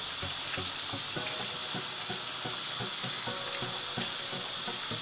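Boiled broccoli drained from hot water in a kitchen, a continuous running-water wash with rhythmic clicking and clattering strokes repeating throughout, close and fairly loud, no talking.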